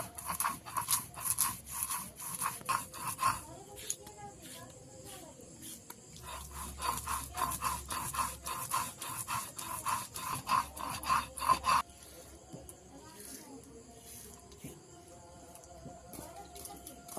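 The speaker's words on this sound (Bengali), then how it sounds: "এখানে আমি সাদা সর্ষে নিয়েছি। একদম মিহি করে বেটে নেব।" White mustard seeds ground by hand into a fine paste on a stone, a steady rhythmic scraping and rubbing close by that runs throughout, with a brief pause midway.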